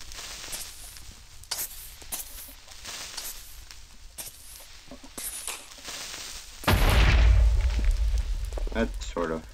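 A Minecraft creeper explodes in a cave level, a sudden loud low blast that swells and rumbles for a few seconds after quieter scattered game noises.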